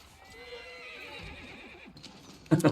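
A horse whinnies with a rising, drawn-out call among horse archers in a real-time strategy battle from Age of Empires IV, followed by a brief loud burst of clattering near the end, with no talk.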